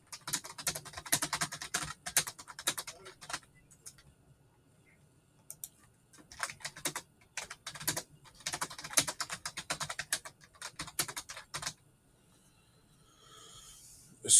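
Keys on a computer keyboard are typed in quick irregular bursts, close and clear, with a few short pauses between runs and no talking.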